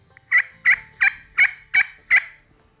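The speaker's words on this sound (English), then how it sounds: "So, how to yelp on a slate call" A turkey yelp worked on a slate friction call: six evenly spaced, sharp raspy notes in a steady rhythm, close and clear with no talking.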